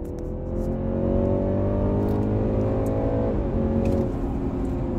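A BMW 330e xDrive Touring (G20) plug-in hybrid with its 2-litre engine revs in sport mode, a continuous, rising engine tone that climbs, dips slightly and carries on steadily, close by and without talk.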